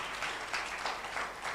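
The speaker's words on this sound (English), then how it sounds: "A big clap for Commissioner Nzomo." An audience at a policy dissemination workshop claps for a commissioner, a soft, steady patter of applause that sounds somewhat distant and is heard on its own.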